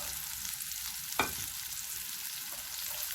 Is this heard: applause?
no